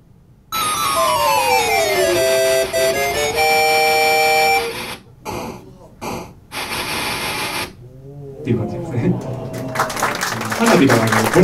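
Famista home-run crowd cheer recreated on a NES noise channel, its volume swept up and down in bursts to mimic a roaring stadium crowd, mixed with bright chiptune tones and sliding notes, played alone without talk.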